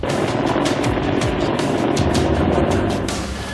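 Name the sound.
Chinook helicopter landing on runway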